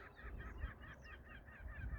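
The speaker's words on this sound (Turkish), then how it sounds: "Vak vak vak vak vak vak vak deyip duran kuşların ne olduğunu çok merak ediyorum" Faint, distant honking from a flock of waterbirds at Lake Van opposite Akdamar Island, repeated calls overlapping against a low background rumble.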